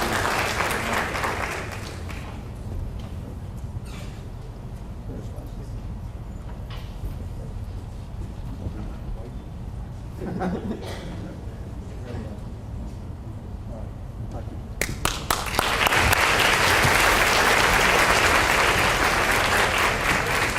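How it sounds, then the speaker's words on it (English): Audience applause at a high school senior awards ceremony honoring Eagle Scouts, a brief burst of clapping at the start, then quieter hall sounds, then loud sustained clapping swelling up near the end. "please give them a big round of applause."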